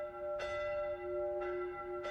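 Video game church bells toll with a sustained ringing hum, each new strike arriving about once a second, soft and distant-sounding.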